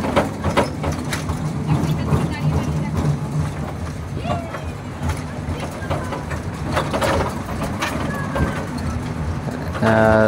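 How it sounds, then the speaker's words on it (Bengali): A moving train rumbles steadily with rail clatter and carriage noise, while people chatter nearby throughout. "ট্রেনে উঠেও পড়েছি, ছেড়ে দিয়েছে ট্রেন।"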